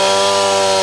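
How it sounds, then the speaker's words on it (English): Firefighters' chainsaws cut into the burning roof of an 83-year-old restaurant building, a loud, steady, close engine whine that runs without a break through the brief moment, with no voices. "Firefighters took chainsaws and axes to the roof of the 83-year-old building"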